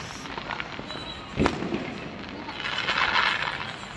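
A 100-shot fireworks cake goes off at a New Year celebration in Hyderabad, with one loud bang followed by a dense, rolling crackle and fizzing bursts at moderate distance, while voices murmur in the background.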